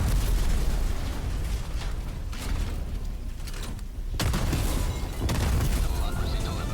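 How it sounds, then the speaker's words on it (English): Autocannon fire and explosions in Helldivers 2, a dense, loud rumble of booms and bursts that thins briefly, then resumes with sharp blasts, with faint talking underneath. "There's an autocannon here, I might as well use this."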